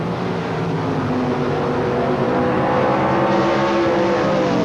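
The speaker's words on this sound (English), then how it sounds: "In the bar lane, for Loomis is another one of the little Datsun 240Z cars with a big American engine transplant." Datsun 240Z drag race cars fitted with big American engine transplants, a loud sustained engine roar with rising harmonic tones as they accelerate down the strip at an NHRA sportsman event.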